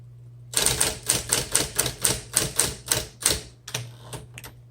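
Rapid, evenly spaced key strikes on a 1958 Smith Corona electric typewriter, a dozen or so sharp clacks in steady rhythm, close and loud, then a brief pause and a few more.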